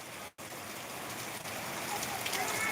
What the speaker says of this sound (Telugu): మాకైతే మంచి వర్షం పడుతుంది